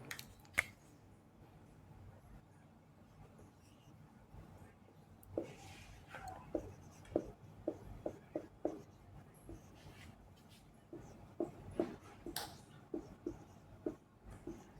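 Handwriting math problems with a pen on paper, quiet scratchy strokes coming in short bursts and clusters separated by pauses, close and faint.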